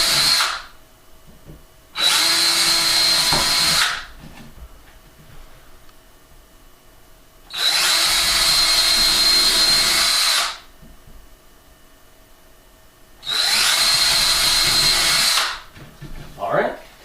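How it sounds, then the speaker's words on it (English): A power drill bores starter holes into 70-year-old wood molding during a kitchen install, in three loud, separate bursts of a few seconds each, with quiet gaps between them and no talking. "So let us do some drilling."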